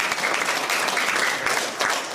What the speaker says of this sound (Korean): 이 세 분에게 힘찬 박수 부탁드립니다.